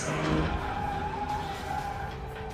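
A passing car strikes a boy on a road in the film M3gan, heard as a loud, continuous skid of tires with engine noise that stays steady and close throughout, without voices.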